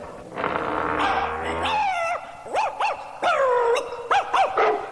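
A dog scratches at a door and whines and yips in rising, wavering cries, several short bursts in a row, close by, with a scratchy noise early on.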